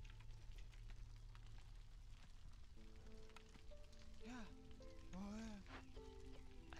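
Light drizzle in the Against the Storm video game makes a steady, soft hiss throughout, under gentle tonal game music that enters partway.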